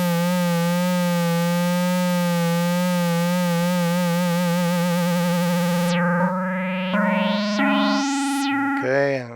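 An Akai MPC 3.9 synth tone wavers under low frequency oscillator modulation, first a slow steady vibrato on a harmonic-rich note, then sharp rising sweeps repeating faster as the rate is changed; loud and alone, no voices.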